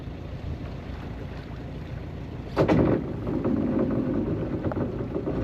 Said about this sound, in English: So maybe less of a problem motoring here through this kelp area than it was yesterday.